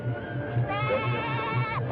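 A goat bleating nearby, a single drawn-out wavering bleat rising and falling over a steady rhythmic low thumping in the background.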